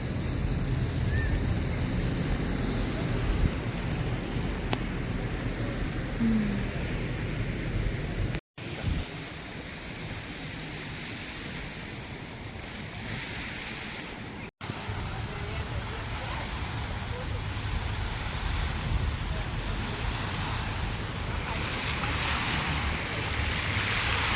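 Sea waves and surf wash continuously near a port on the coast of Oman as a ship passes, with steady wind rumble across the microphone and brief dropouts.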